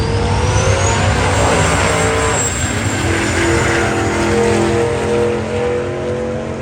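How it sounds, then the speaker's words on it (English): A turbocharged Dodge Diplomat accelerates hard down a drag strip, its engine a loud, continuous roar with a rising whine, heard up close throughout. "Still fun, fast, and pretty impressive for the first time going down the drag strip."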